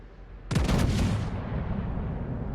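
A single heavy naval gun salvo from the battleship Thunderer in World of Warships, a loud booming blast with a rolling rumble that fades out slowly, no talking.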